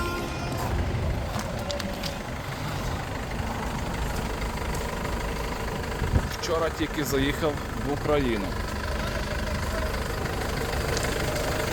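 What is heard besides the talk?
van diesel engine idling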